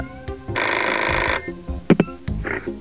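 In the Pajama Sam 2 PC game, a cartoon telephone gives one long, loud electronic ring, followed by brief clattering and a short voice.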